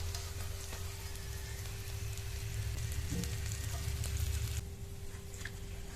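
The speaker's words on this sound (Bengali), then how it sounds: "বাকিগুলো দিয়ে একইভাবে ভেজে নেব" Snacks deep-fry in hot oil with a close, continuous crackling sizzle at a steady level that drops slightly near the end, alongside a faint low hum.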